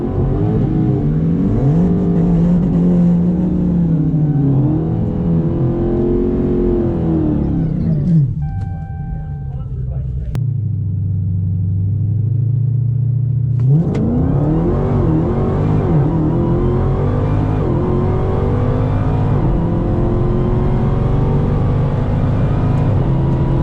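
A stock Dodge Hellcat Redeye roars hard on a drag racing qualifying pass, its supercharged engine climbing through gear changes, then lifts briefly and surges back to a loud, sustained howl.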